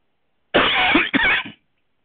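A single close cough, a harsh burst followed by a quick second hack, with silence before and after.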